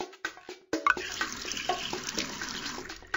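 Water splashes and pours into a pony's watering trough in a Dora the Explorer video game, a steady close rushing stream that starts abruptly after a short quiet gap and runs on loudly to the end.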